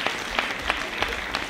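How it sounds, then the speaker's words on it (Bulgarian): An audience at a gala concert claps for children's vocal ensembles in a brief burst of applause. A few louder claps land at a fairly regular beat, as if part of the crowd is clapping in rhythm. "Ваши аплодисменты вокальным ансамблям."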